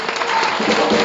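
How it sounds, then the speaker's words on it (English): A church congregation claps its hands in praise, a loud, continuous patter of many hands in a worship service, thick and even from start to finish. "Can we clap our hands for"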